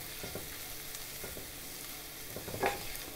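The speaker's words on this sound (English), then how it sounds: "we're going to saute it very well with this onion, garlic, ginger, green chilies, and curry leaves" Onion, garlic, ginger, green chilies and curry leaves sautéing in coconut oil for a Kerala duck egg roast, a steady soft sizzle with a few stirring scrapes and a brighter clatter near the end.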